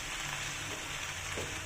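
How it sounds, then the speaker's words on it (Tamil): Pasta being stirred in a hot pan, with a steady sizzling hiss and faint scraping of the spoon throughout, close and even in level, with no talking. "பாஸ்தா போட்டு நல்லா கிண்டிக்கிறோம் ஃப்ரெண்ட்ஸ்."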